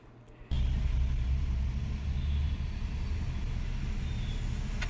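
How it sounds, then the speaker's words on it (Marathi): Heavy midday road traffic in Pune, a steady loud low rumble of engines and passing vehicles that starts abruptly after a brief quiet moment and continues throughout with no talking. "आणि ट्रॅफिक बघू शकता तुम्ही किती ट्रॅफिक लागलेला आहे।"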